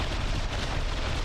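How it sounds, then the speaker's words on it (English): A massive explosion in the naval combat video game From the Depths, a dense, loud, continuous roaring blast with heavy low-end rumble filling the whole moment. "there we had a pretty big explosion."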